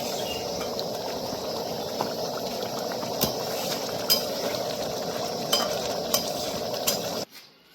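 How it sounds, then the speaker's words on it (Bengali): Egg curry simmers in a pot in an outdoor village kitchen, a steady bubbling hiss broken by a few sharp clinks of a utensil against the pot, ending abruptly. "অল্প একটু ফুটলে হয়ে যাবে আমার এগ কারি আজকে রান্না"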